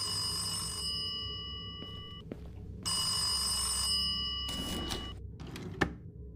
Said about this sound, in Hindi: अरे फोन बज रहा था तो फोन उठा ना।